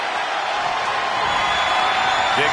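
A wrestling arena crowd in the video game WWE 2K25 roars steadily, a dense, loud wall of cheering that holds throughout the moment.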